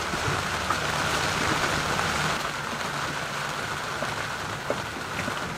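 Steady rain pours down during a storm on a sailing yacht in the Bahamas, a dense continuous hiss with scattered heavier drops, close and loud throughout with no voices.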